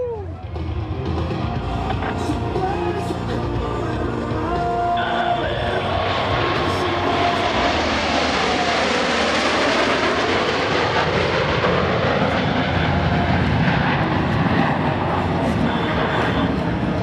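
Four US Navy Blue Angels jets pass in tight diamond formation at an airshow, a loud roaring flyby that swells and sweeps past over a crowd while an announcer talks.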